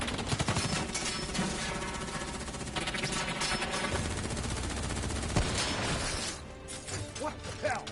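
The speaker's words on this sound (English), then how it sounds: "Who's shooting?" Dense, continuous gunfire from a Call of Duty Black Ops 3 firefight, rapid automatic bursts and crashing impacts packed close and loud for most of the stretch before easing near the end, with voices mixed in.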